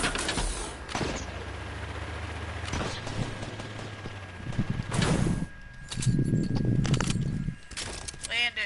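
Gunfire in the video game Playground, rapid bursts and rattling shots mixed with game effects and mechanical clicks running through most of the stretch, with players talking over it.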